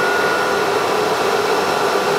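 A CNC router's vacuum pump and dust collector run together as a steady, loud broadband whine and hum with a tonal drone, constant throughout with no speech.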